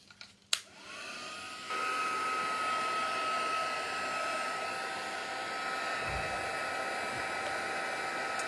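A hair dryer switches on after a brief clunk and runs steadily and loud at close range, blowing hot air to dry a piece of a vintage junk journal, a continuous whirring hum with no talking.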